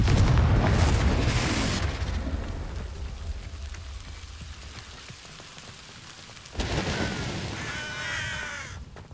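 Confringo blasting spells in Hogwarts Legacy go off as loud, broad booming bursts at the start, then fade to a rain-like hiss with cawing, before another burst hits near the end.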